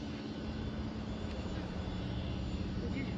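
A Gulfstream jet sits idling before takeoff, its engine a steady, broad roar with a low hum that holds unchanged throughout, close and continuous.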